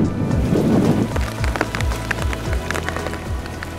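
Heavy rain pours down steadily with gusting wind during a hunt in the countryside, a loud dense patter with scattered heavier drops and a low rumbling undertone.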